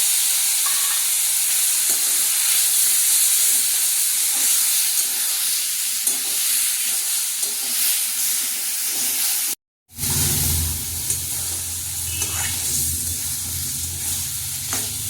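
Soybean curry fries in oil in a pan with a loud, steady sizzle and hiss, close by and with no talk; after a brief dropout the sizzle continues with a deeper bubbling rumble underneath.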